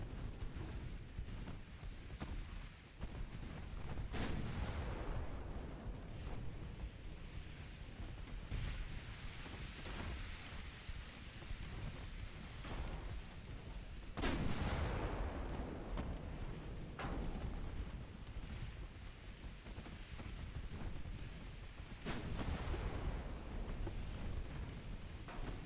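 Heavy naval artillery and a torpedo detonation in a naval warfare video game, deep booming blasts recurring every several seconds over a steady rumbling sea and wind bed, distant and muffled.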